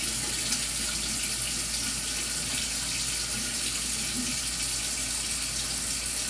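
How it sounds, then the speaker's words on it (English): Tap water runs steadily into a sink while hands are washed with soap, a constant close hiss and splash with no pauses and no voices. "Now wash your hands for real."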